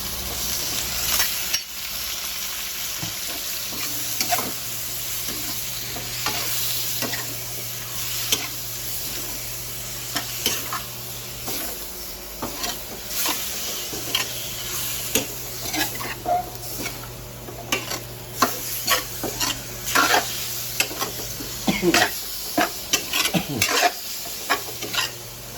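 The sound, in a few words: pork frying and being stirred in a pan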